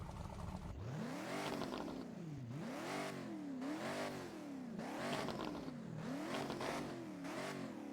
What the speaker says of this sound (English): now let's get some revs